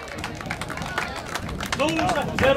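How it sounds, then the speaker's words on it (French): A crowd at an outdoor chainsaw competition in Saint-Célestin claps for a competitor, loose scattered applause mixed with chatter, while an announcer's voice carries over the top and grows louder toward the end. "Ken Champoux, on l'applaudit."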